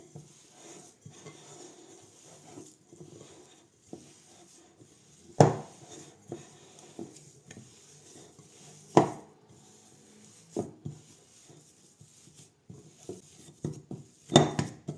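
Almond and gargaa nougat mixture is kneaded in a bowl, giving soft sticky squishes and rubbing with occasional sharp knocks of utensil against the bowl, quiet and close.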